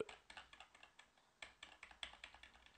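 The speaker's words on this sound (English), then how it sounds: "Press I for insert mode, and then you'll be able to type things in." Typing on a computer keyboard, heard as a quick run of crisp, close key clicks in an uneven rhythm, with a brief pause midway before the tapping resumes, quiet and alone.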